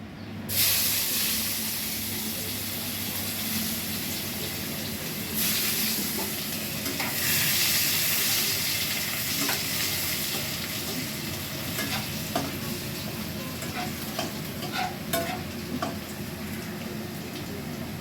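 Food frying in a pan for a home-cooked Bengali meal, a steady close sizzle and hiss that swells and settles as the food is stirred, with occasional sharp crackles and clinks, no talking.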